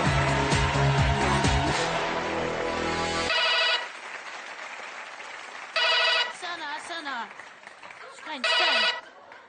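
A telephone ringtone chirps in repeated electronic bursts during a French comedy sketch about a mayor who refuses to marry gay couples, first over loud music and then alone between pauses as a voice speaks.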